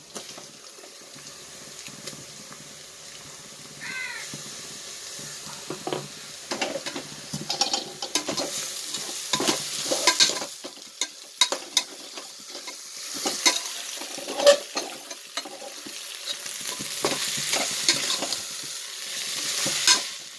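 Garlic sautés in a pan as the base for tomato biryani: a continuous close sizzle broken by repeated scraping and clattering stirs, loud and uneven throughout, with no one talking.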